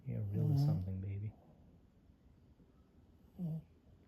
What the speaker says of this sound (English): Why are you snoring, baby? You're not asleep.